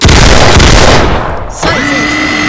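A gun fires in a Roblox video game, a very loud burst of booming shots that rings out and fades, followed by a softer tonal ringing tail.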